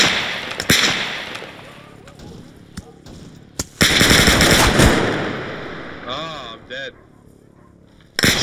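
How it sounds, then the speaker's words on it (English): Rapid automatic gunfire from a shooter video game, with loud bursts and scattered single shots over about eight seconds, mixed with game effects and players talking over it. "Enemy fire!"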